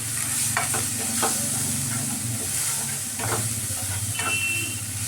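Salted ingredients frying in a pan before minced chicken goes in for Scotch eggs, a loud steady sizzle with a low hum underneath and occasional scrapes of stirring, no voices.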